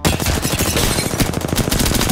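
Rapid automatic gunfire fills an Apex Legends match, a dense, loud burst of overlapping shots crackling continuously throughout.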